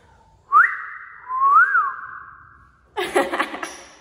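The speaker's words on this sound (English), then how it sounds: "I have to do the whistle on camera." A person whistles two rising, sliding notes, clear and close, at a festival, followed by a brief burst of laughter-like noise.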